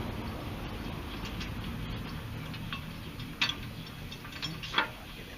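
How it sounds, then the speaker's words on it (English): Bolts going into a trailer hitch on a Mercedes W163 ML320, heard as a low mechanical rumble with a few faint metallic clicks and ratchet ticks near the end. "And you're simply going to install 4 bolts."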